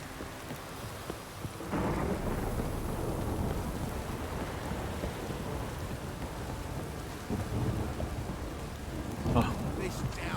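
Heavy rain pours steadily in The Witcher 3: Wild Hunt, with deep rumbling thunder rolling underneath, a loud continuous downpour with a brief louder crack near the end.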